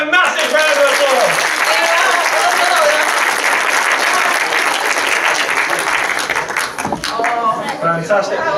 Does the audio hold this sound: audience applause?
yes